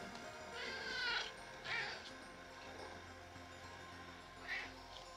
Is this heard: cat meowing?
yes